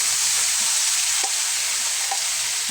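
Corned beef with cabbage sizzling loudly in a pan after onion and garlic, a dense, steady hiss up close with a couple of faint stirring taps, no talk.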